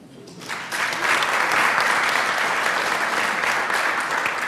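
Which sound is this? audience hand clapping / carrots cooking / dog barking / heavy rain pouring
audience hand clapping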